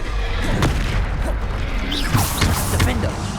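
Depulso spell cast in the Hogwarts Legacy video game, a burst of magical whooshes and impacts amid a busy combat mix of thuds and crashes, with a voice shouting over it.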